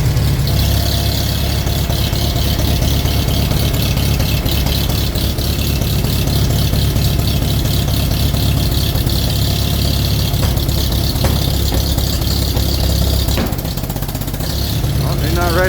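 A 1941 Farmall M tractor with a 12-volt Pertronix ignition idles after a cold start at minus eight degrees with the choke still on, a loud steady rumbling idle with mechanical rattle running throughout and little change in rhythm.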